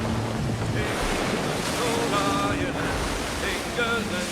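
Ocean waves and wind wash steadily around a sailing ship in Assassin's Creed Black Flag, a constant surging hiss with faint background tones and game sounds layered over it.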